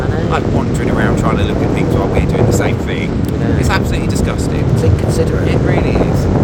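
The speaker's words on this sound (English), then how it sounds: "Right, well, it's windy, Stephen's moaning." Loud gusty wind buffeting the microphone throughout, with a person talking underneath the roar.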